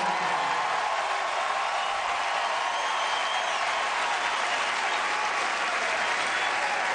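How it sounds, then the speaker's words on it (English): A large stadium crowd at the Olympic trials men's 800m final in Eugene, Oregon applauds in a dense, continuous roar of clapping that stays loud and steady throughout. "Listen to the crowd."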